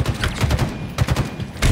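Rapid bursts of automatic gunfire in Halo Infinite multiplayer, several volleys crackling close and loud in an uneven stuttering rhythm with brief gaps between them.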